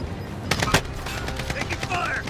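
Rapid automatic gunfire in a Call of Duty Warzone Resurgence match, a few sharp close bursts over constant game noise, with a player's voice talking at times.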